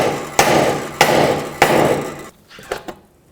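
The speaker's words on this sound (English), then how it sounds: "Then take a hammer on the knuckle." Three loud, sharp hammer blows strike a car's steering knuckle on a 2004-2008 Acura TL to free the control arm during a front upper ball joint replacement, each with a ringing tail, followed by a few lighter metallic taps.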